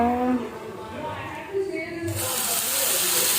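Uttapam batter hits a hot pan and breaks into a loud, steady sizzling hiss partway through, continuing to the end beneath someone talking nearby.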